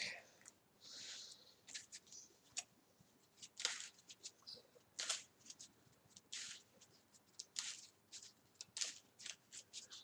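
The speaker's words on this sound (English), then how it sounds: "Then we'll shuffle the rest of his cards into the deck." Playing cards for the Marvel Champions card game are shuffled into a deck, with repeated crisp riffling bursts and short pauses between them, close and clear with quiet handling noise.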